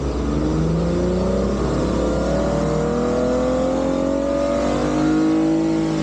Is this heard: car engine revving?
yes